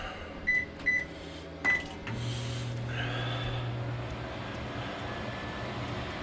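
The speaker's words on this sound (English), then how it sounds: "we're gonna see if we push this guy over the top by using this huge LG microwave" A large LG microwave oven starts up with a few short beeps, then settles into a steady, close low hum and whir that runs on alone without talk.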